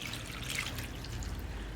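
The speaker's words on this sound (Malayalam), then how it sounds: "ഇപ്പോൾ നമുക്കിതിലേക്ക് വെള്ളം ചേർക്കാം." Water poured onto tapioca pieces in masala for a kappa curry, a short, soft trickling splash heard close and alone.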